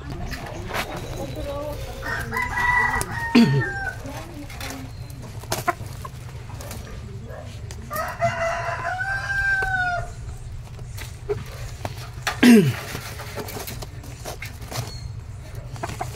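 A hen clucks on a mini farm in short, close bursts among other fowl sounds and a crow, over a low steady background hum, with people talking intermittently.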